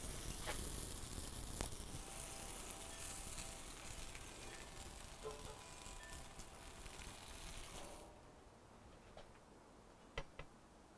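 Blueberry shortcake, buttered on both sides, sizzles on an oiled, preheated grill. A steady, fairly quiet hiss with faint crackles runs for several seconds, then fades to near silence broken by a few small ticks.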